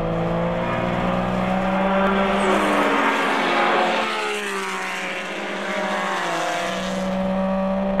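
Porsche race cars of Group 5 at the 2015 Rennsport Reunion roaring past in a close pack, engine tones rising and falling in pitch as they approach and pull away, loud and continuous.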